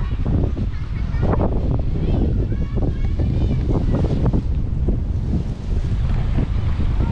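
Strong coastal wind at Barcelona, Sorsogon buffets the microphone throughout, a loud continuous roar with gusty rumble, with faint water and talk-like sounds mixed beneath it.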